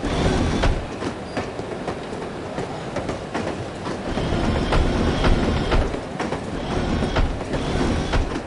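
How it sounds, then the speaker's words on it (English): A train rolls along rails in the No One Lives Forever video game, a loud continuous rumble with steady clickety-clack wheel beats and metallic rattle throughout. "I love riding the train."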